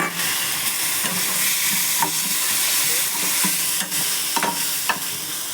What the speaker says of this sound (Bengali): একটু জল দেবো, দিয়ে নাড়বো।